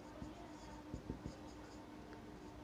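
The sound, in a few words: writing on a board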